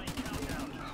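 Gunfire from the Call of Duty 4 Remastered video game, a rapid burst of shots in quick succession over about a second, dense and continuous, at moderate level.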